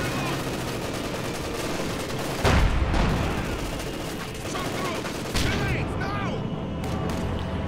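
Rocket artillery and gunfire in the game Company of Heroes 2, dense bursts of shots and heavy booming blasts over continuous battle noise, with a voice commentating over it.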